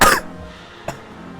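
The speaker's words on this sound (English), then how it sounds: "Do you bless someone when they cough?" One sharp, close cough bursts out at the start, followed a moment later by a smaller second cough or throat-clearing, with no talking.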